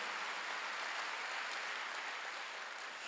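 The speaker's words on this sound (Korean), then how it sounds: "박수 주세요." Church congregation applauding during a Wednesday worship service: a steady, dense wash of many hands clapping that holds at an even level for about three seconds, with no voices.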